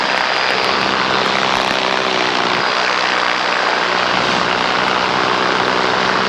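A light propeller airplane climbing out after takeoff from a grass strip, its engine a loud, steady, unbroken drone heard from inside the cabin with no talking.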